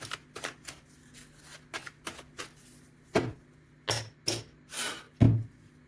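A deck of oracle cards is cut and handled, giving a run of quick, crisp riffling and slapping noises in irregular bursts, close and moderately loud.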